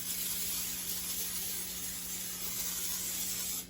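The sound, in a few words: cooking spray sprayed into loaf pan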